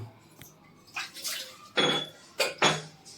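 Metal utensils being washed in a bathroom, several separate clinks and clatters with splashing water, close and alone with no talk.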